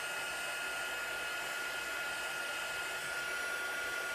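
Heat tool blowing hot air onto embossing ink, a steady loud whooshing hiss with a constant whine that runs unbroken and close throughout.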